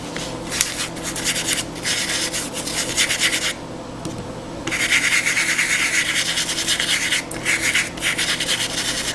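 Green and gray weathering powder being rubbed by hand into shingles, a steady close scratchy rubbing in continuous strokes, with one brief pause partway through.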